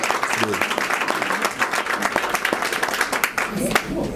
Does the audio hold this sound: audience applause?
yes